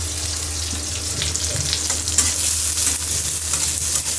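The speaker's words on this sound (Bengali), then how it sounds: "এখন এই তেলে একটু পেঁয়াজ ভেজে উপরে আম্মু আবার ফোড়ন দিয়ে দিবে" Onions fry in hot oil for a tempering, giving a dense, continuous sizzle and crackle that stays close and steady throughout, with a few faint scrapes of stirring.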